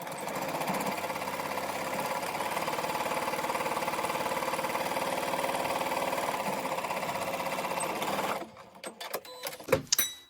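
A sewing machine runs steadily for about eight seconds, stitching a 2.5 by 12.5 inch fabric strip onto a log cabin quilt block, then stops, followed by a few scattered clicks and handling noises.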